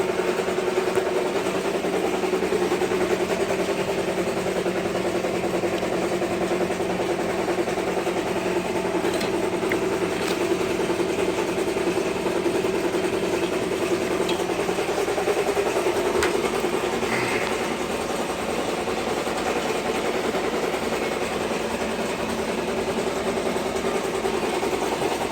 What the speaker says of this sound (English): Compressor's loud.